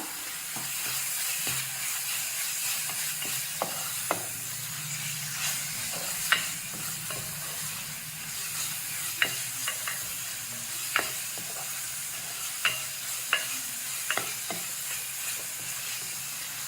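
Ginger garlic paste frying in a pan for a kurma, a steady soft sizzle broken by sharp scraping clicks of a spatula stirring it at irregular intervals, with no voices.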